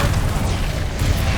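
Incendia fire spell in Hogwarts Legacy bursts out as a dense, rumbling whoosh of flame, loud and sustained across the whole moment with a heavy low roar and no speech over it.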